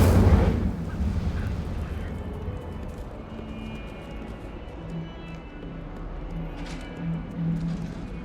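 In the video game Hogwarts Legacy, an Incendio fire spell is cast as a sudden deep whoosh and burst, loud at the onset, then fading into a low roiling rumble with faint crackles and a few later pops.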